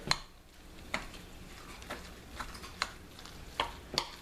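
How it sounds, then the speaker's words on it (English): A spoon gently folds an egg into a crab mac and cheese mixture, making soft, wet, irregular stirring scrapes with occasional light clinks against the bowl, close and quiet. "we're looking to gently fold this all together."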